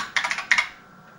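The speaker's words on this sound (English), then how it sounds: "So let's type in basic print" Keys on a BBC Master 8-bit microcomputer keyboard are struck close up, a quick run of four clacks, then two more after a brief gap, fading into a quiet hum.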